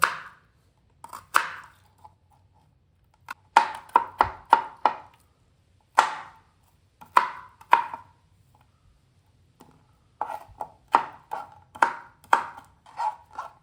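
An onion being cut with a knife on a board: sharp, close chops in uneven bursts with short pauses between runs, no talking.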